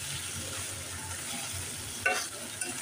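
Shrimp and okra fry in spiced oil with a steady, close crackling sizzle, broken by a couple of sharp utensil scrapes near the end.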